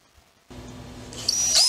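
An electric screwdriver runs with a rotary torque sensor mounted in line, a steady motor whir that starts abruptly after a quiet moment and rises in pitch toward the end, close and alone.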